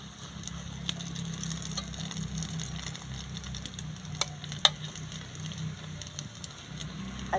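Khasta rolls fry in hot oil, a soft continuous sizzle and bubbling at moderate distance with occasional small crackles and light clinks, and no talking.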